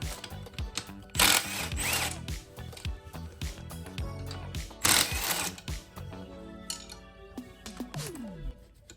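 A power tool drives out the two brake caliper bolts on a crashed Triumph Street Twin 900 with an underslung caliper. Two loud, close whirring bursts stand out among shorter buzzes and metallic clicks.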